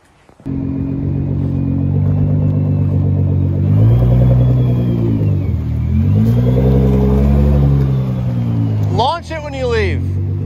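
A $2,000 Ferrari engine idling with a deep rumble, then revving up and down in long swells before a launch control start, with a brief sharp blip near the end.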